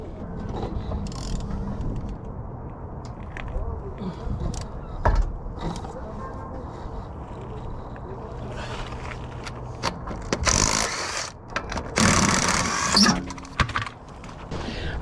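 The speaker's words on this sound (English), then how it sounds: "if I can even take off these lug nuts" Lug nuts are worked off a wheel of a 1987 Honda Civic Si hatchback in a junkyard, with clanking metal, ratcheting and scraping bursts over a background hum, and a loud cluster of clatter near the end.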